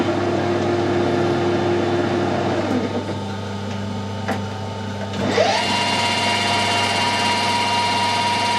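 Lathe fitted with an SNNC 151 P2 chuck spinning at 1000 RPM, a steady whirring motor hum with tonal whine that dips briefly and then shifts to a brighter, higher pitch.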